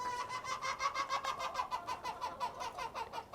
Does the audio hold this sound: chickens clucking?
yes